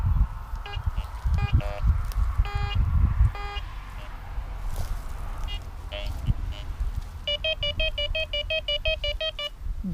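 A handheld metal detector sweeping a trash-strewn dumping ground, emitting repeated electronic beeps and tones in short clusters, ending in a fast rising run of signals over wind and ground noise, with some talking in the background.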